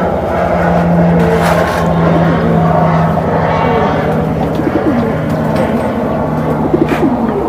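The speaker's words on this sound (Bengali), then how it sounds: "পুরো সিলভার কবুতর, অ্যালমন্ড লাইনের কবুতর।" Silver and almond line pigeons cooing close by in repeated low throbbing calls, with scattered rustling and handling noise around them and no talk.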